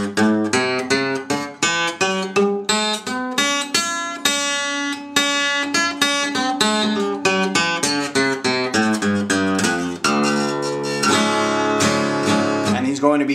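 Acoustic blues guitar running an E blues scale up and down in a steady stream of picked single notes, close and fairly loud, with a few sustained bends near the end and no voice over it.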